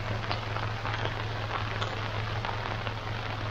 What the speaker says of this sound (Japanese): どっしゃ降りの雨の中キャンプしてます